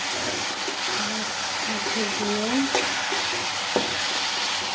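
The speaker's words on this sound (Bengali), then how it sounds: "মশলা কষানো হচ্ছে" Spice paste sautéing in a pan makes a steady close sizzle, with a voice talking over it and a couple of brief utensil knocks.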